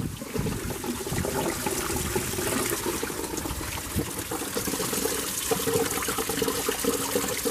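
Engine coolant gushes out of a Mercedes Vito W639 van with the OM646 diesel into an oil pan, a continuous, loud splashing pour that holds steady without a break.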